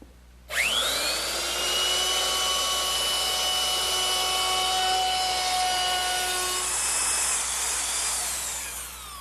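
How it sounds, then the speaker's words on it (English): A router fitted with a 3/8 inch radius round-over bit spins up with a rising whine and then cuts along the top edge of a wooden Adirondack chair armrest, a loud sustained high-pitched scream lasting several seconds. "just rounded over the top edge of my armrest using my router and a 3/8 inch radius rounding over bit"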